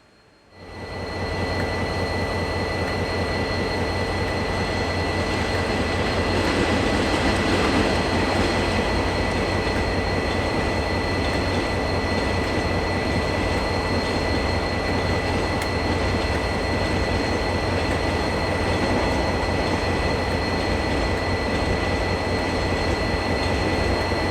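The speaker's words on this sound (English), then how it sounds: "catch DXB 5120 and DXC 5258 passing by with train 882, a Racecourse Hill to Lyttelton service" Diesel locomotives DXB 5120 and DXC 5258 haul a freight train past, a loud, sustained rumble of engines and rolling wagons that swells in quickly and then stays heavy and close for the whole passage, with steady rail noise.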